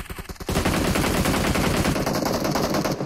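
Continuous automatic rifle fire from an AUG in PUBG Mobile, played on a laggy server. A few separate shots come first, then a dense unbroken burst that fills the rest of the clip at high volume.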